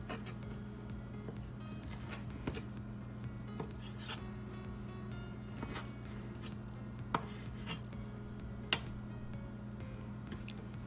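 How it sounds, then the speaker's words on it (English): Knife slicing food on a cutting board while preparing a buffalo chicken Philly, with scattered sharp cuts and taps at irregular intervals over a steady low hum, fairly quiet and close. "I'm going to flip the whole cutting board around and cut them this way"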